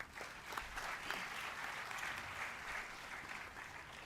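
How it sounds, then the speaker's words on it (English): Sustained applause from an audience at a university first-year B.Tech orientation program, a dense even wash of many hands clapping at moderate distance, steady throughout with no talk over it. "Please welcome Sir with a huge round of applause"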